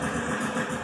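A motorcycle engine runs outdoors below the listener, a steady low idling rumble with a constant hum for about a second and no talking.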